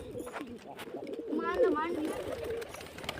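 Pigeons waiting for grain give a soft, throaty coo in the middle of the clip, close by, with a person talking over the low background.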